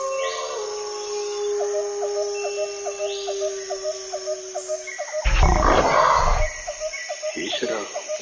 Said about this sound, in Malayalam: പുലിയുടെ സൗണ്ടും കേൾക്കുന്നുണ്ട്.